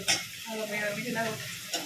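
Onions fry in hot oil for a Gujarati tempering while being stirred, a close sizzle with scraping spoon strokes against the pan over a couple of seconds.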